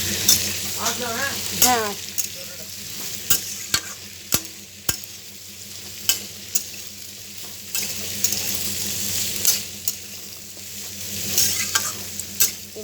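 Cut bitter gourd frying in a pan for a pumpkin, potato and bitter gourd bhaja, with a steady close sizzle and repeated sharp spatula clacks and scrapes as it is stirred. A brief word is spoken.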